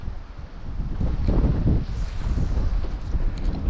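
Wind gusts across a lake during September fishing, a rough, close rumble against the microphone that swells and eases over a few seconds, with no talking.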